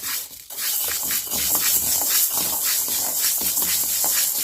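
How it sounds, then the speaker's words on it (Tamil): Mung beans dry-roasting in a hot pan, a loud continuous hissing rush close by with faint rhythmic stirring, no speech. "இப்போ பாசிப்பயிரை நல்லா வறுத்துக்கிடுவோம்"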